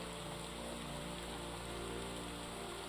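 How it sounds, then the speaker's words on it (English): Heavy rain pours steadily in Project Zomboid, a dense continuous hiss of drops on surfaces that holds even and loud from start to finish with no talk. "a strong rain had set in"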